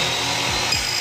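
A power tool cuts through the welds on a metal gate leaf, a loud continuous grinding whine with two brief dips in pitch as it bites, close by and heard on its own.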